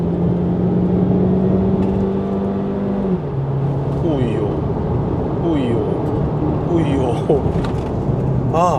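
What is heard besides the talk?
Morris Garage (MG) SUV driving at lower speeds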